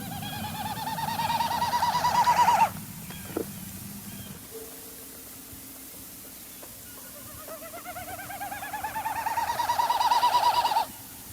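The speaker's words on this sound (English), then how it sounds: "as the bird goes through its flight display" A marsh bird performs its flight display over wetland, giving two long, rising series of rapid, winnowing hoots, each swelling in volume before stopping, separated by a quieter stretch with a few faint calls.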